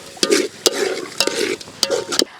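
Ginger garlic paste sizzles and fries in hot oil for mutton balls biryani cooked inside bamboo wood, with a spoon scraping and stirring in repeated strokes and sharp clinks against the pan, close and loud.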